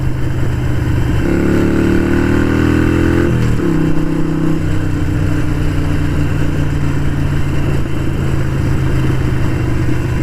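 A Harley-Davidson Sportster 883 Iron rumbles loudly and continuously while ridden, its engine note climbing and shifting with gear changes before settling into a steady drone, with no talking.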